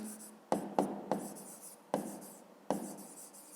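Pen writing by hand on paper, a few sharp taps and short scratchy strokes in an irregular rhythm, close and quiet.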